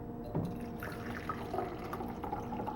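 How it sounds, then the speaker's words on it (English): Brewed tea, made from a latte mix, is poured from a French press in a steady, soft liquid trickle with a few faint drips, heard close and alone. "it's time to pour"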